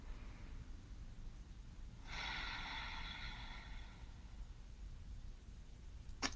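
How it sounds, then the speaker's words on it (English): A single deep breath in and out during a guided meditation, a soft airy band of breath that rises and then fades over a couple of seconds and stands alone against a quiet room hiss. "Go ahead and take a deep breath and let it out"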